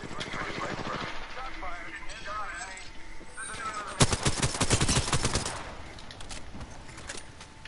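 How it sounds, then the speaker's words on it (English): Bursts of rapid gunfire crackle through a game soundtrack, loudest in a dense volley midway, while a voice talks over it. "Is that a gunshot?"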